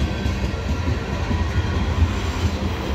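CSX freight cars, gondolas and propane tank cars among them, roll past on the old B&O mainline. They make a steady low rumble with soft rail clatter, moderately close, and no voices are heard.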